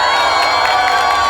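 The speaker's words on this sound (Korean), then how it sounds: "거기에 대해 환호하는 분들" A crowd at a political rally cheers and shouts loudly in a dense, continuous roar of many voices, close and filling the whole brief moment.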